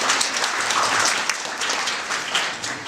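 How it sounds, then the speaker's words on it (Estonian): An indoor audience applauds steadily for a birthday at an event in the KUMU art museum, dense clapping from many hands with no pauses. "teeme talle ühe sünnipäeva aplausi ka"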